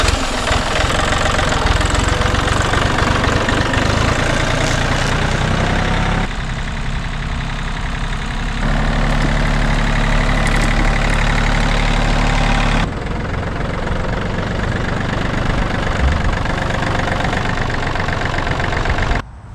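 An old John Deere tractor, left rotting in weeds for years, runs with a loud, rough, knocking engine that idles and shifts load in several distinct stretches, close and continuous.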